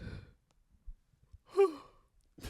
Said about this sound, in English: Could you make that yawn a little bit less obvious?